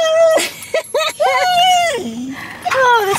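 Dogs at the vet let out drawn-out whimpers and high yips that slide up and down in pitch, loud and close, several cries in a row with short gaps between them.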